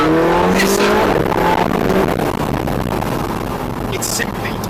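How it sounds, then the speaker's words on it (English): A sports car's exhaust roars loudly as the engine revs and climbs, a raspy, rising note heard up close with brief higher crackles. "People criticise this car for not having an exciting exhaust note."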